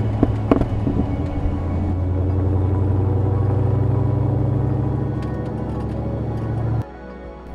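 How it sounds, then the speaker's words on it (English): Restored Land Rover Defender 110 crew cab with a 6.2-litre LS3 V8 and 5-speed manual, a steady deep rumbling engine drone with a few sharp pops at the start, held loud before cutting to a quieter idle near the end. "you can't beat the feeling of shifting through the gears with a big V8"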